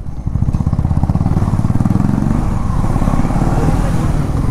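A KTM Adventure 390 motorcycle engine pulling hard while riding, a loud, close, rapid low thrum that pulses evenly and rises slightly in pitch.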